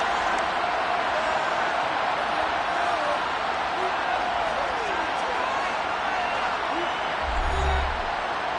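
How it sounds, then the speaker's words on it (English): A football stadium crowd shouts and murmurs steadily while watching a replay, a dense, continuous wall of distant voices with scattered louder yells and a brief low thump near the end. "Plenty of shouts from this crowd as they watch the replay."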